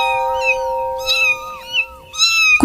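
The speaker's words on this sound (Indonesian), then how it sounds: "Sebuah kucing oranye dengan bulu lebat dan mata yang cerah berjalan mendekat padanya." An orange cat with thick fur meows three times in drawn-out, fairly loud calls, alone against a quiet background with a steady faint hum.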